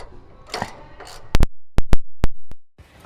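Tightening bolts on a Dissent Off-Road rear bumper base fitted to a Lexus LX470: a burst of short, sharp metallic clicks and ratchet snaps in an uneven rhythm, loud and close, following some quieter handling noise.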